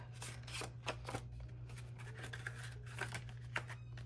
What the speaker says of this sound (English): I'm gonna put in one of these little envelopes that I created.